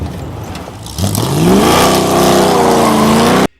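A 440-powered 1968 Dodge Charger with mismatched body panels, built in a Mad Max style, revs hard: a rising engine roar that climbs in pitch and holds loud and close, with no talk.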